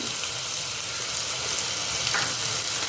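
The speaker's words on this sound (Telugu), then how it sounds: "ఇది కొంచెం ఫ్రై చేసి సిమ్లో పెట్టి కొంచెం ఫ్రై చేసి చేద్దాం." Cashew and coconut paste frying with mixed vegetables for a kurma, with a steady, dense sizzle held throughout at close range and no voices.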